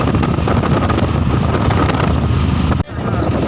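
Strong cold wind rushes past while riding in an open tempo auto-rickshaw over a river bridge, a loud steady roar with vehicle rumble, dipping briefly near the end.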